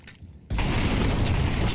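A grenade blast in the Counter-Strike match between PGE Turow and Astralis Talent erupts after a short quiet lead-in, then holds as a loud, dense rumble with rattling debris until the end.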